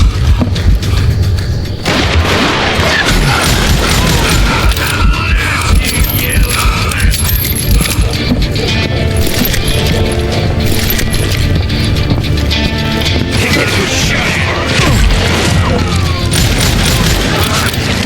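Rapid gunfire and booming shots from the Wild West shooter Call of Juarez: Gunslinger, loud and dense throughout, layered with clanking mechanisms and crashing impacts in a constant game mix.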